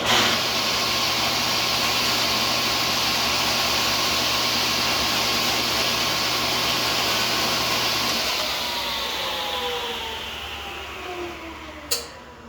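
An old power saw over 23 years old, run for the first time after five years in storage, drones loudly and steadily alone for about eight seconds before the engine winds down and fades, ending with a short sharp knock.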